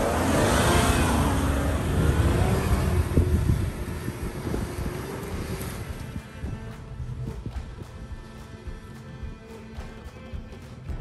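A modern car accelerates hard with a rising engine note under wind noise, loud at first, then easing into steadier road and wind rumble with scattered clicks.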